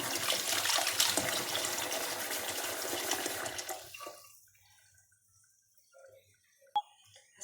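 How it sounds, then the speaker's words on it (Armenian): Water poured into a cooking pot for a chicken soup, a loud rushing splash for about four seconds that stops abruptly, followed by quiet with a couple of faint knocks. "Այստեղ էլ ջուր լցնեմ"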